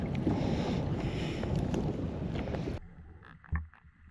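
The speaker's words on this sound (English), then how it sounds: "Wind is definitely picking up." Strong wind gusts across open water in the Middle Sound during a kayak fishing trip, a loud roaring rumble that cuts off abruptly and leaves quieter lapping and a soft thump.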